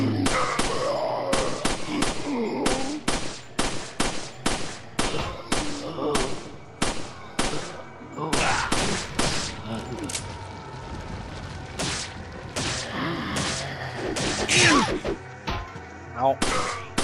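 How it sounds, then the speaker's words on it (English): Handgun fire in Resident Evil 4, a long run of sharp, punchy shots at a steady rapid rhythm, loud and close, each with a short booming tail and occasional thuds between. "I'll use the handgun, I've got plenty of ammo."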